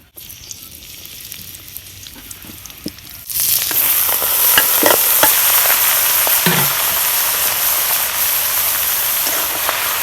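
Tengra fish and nai shak curry hits a hot pan and breaks into a loud, steady sizzle after a quiet start, with occasional scrapes from stirring.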